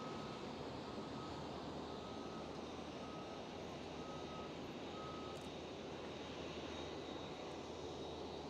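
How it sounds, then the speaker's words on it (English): Airbus A321neo being pushed back at Schiphol airport, a steady loud roar of aircraft engine noise with an even, repeating electronic beep running through it and no voices. "And I see Transavia Airbus A321neo pushing back as well."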